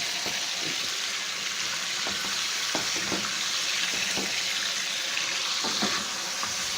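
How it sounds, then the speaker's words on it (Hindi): Mutton fries in a kadai with a steady, even sizzling hiss, broken by occasional soft clicks and stirs, close up and continuous. "अब आपने इसकी गोश्त की खूब अच्छे से इसको फ्राई करना है।"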